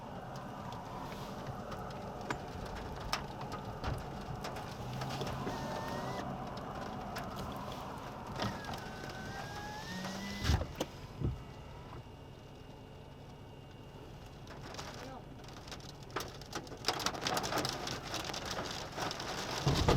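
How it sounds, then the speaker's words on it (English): Large hail pelts down during a tornado storm near Sterling City, Texas, as a dense, continuous drumming roar of impacts with occasional louder hits and a faint rumble beneath. "Yeah, we need to go. That's large hail."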